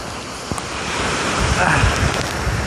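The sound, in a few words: swift river current at a waterfall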